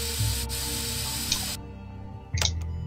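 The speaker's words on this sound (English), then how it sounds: "spray for blood." Spray bottle misting for blood at a crime scene in a point-and-click murder mystery game, a steady hiss that cuts off, followed by a second short spray burst.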